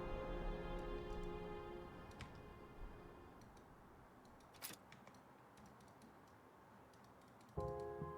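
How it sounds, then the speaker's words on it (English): Quiet, sparse clicks of computer mouse buttons at a desk, several short ticks spread irregularly over a low hum, with a hard-edged background tone at the start and end. "I'm clicking my mouse and nothing's happening"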